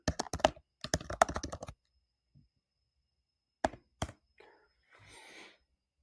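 Typing on a computer keyboard, two quick bursts of close key clicks followed by a few isolated taps and a soft breathy noise, set against near silence.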